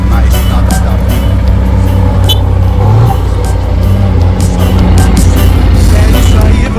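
A truck engine downshifting on a road, heard as a loud, continuous low drone with a brief shift in pitch partway through, rumbling steadily close by.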